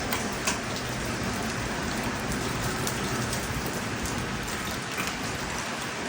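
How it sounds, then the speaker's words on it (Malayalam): Hail falls across a home's front yard in a continuous broadband clatter and hiss, even and unbroken, with a few sharper hits standing out near the start and toward the end. "അതാ കല്ല് വീഴുന്ന സ്വരം, അതല്ല വെള്ളത്തിൻ്റെ സ്വരമല്ല."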